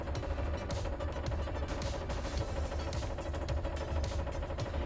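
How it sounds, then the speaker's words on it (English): A home washing machine thumps hard while running, filling the room with a dense, rapid, steady clatter that never lets up and drowns out everything else; no one speaks. "my washer is thumping"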